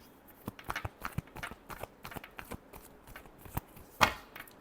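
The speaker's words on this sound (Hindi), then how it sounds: "Last shuffle." Tarot cards are shuffled by hand in a series of quick, close riffles and soft taps, with a sharper snap of cards near the end.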